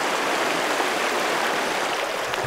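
River water flows steadily in a continuous broadband rush, close and even, with no talking over it.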